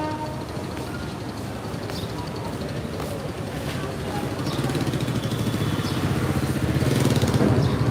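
A passenger launch's engine rumbles at the Sadarghat river terminal as the vessel enters the line, a steady low drone that grows louder toward the end, with busy riverside noise around it.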